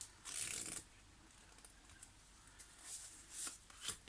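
Tarot cards drawn from a deck, soft papery swishes and slides heard faintly up close, a longer rustle at the start followed by a few brief card flicks in a quiet room.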